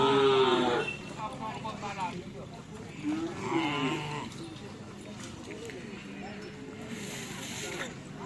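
Cattle at an outdoor cow event give loud, drawn-out moos, one right away and another midway, amid crowd noise and people talking in the background.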